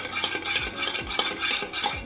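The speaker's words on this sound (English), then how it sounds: "And you're just gonna stir everything together." Ice and liquid swirled in a glass as a spiced rum old fashioned is stirred, with light clinking and scraping repeating in a steady rhythm, close and moderately loud, with no voices.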